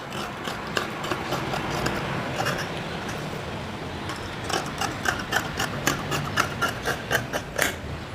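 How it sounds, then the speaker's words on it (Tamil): Scissors cut through the sleeve fabric of a men's kurta, starting as a quiet rasp and then becoming a steady run of short, crisp snips close by. "நான் கட் பண்ணுறேன் இப்போது."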